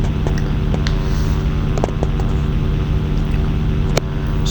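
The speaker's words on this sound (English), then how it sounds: "So you can see there, the aircraft is very slowly building up speed." An aircraft engine roars loudly and steadily as the plane slowly builds up speed for takeoff, a dense continuous drone broken by a few faint clicks.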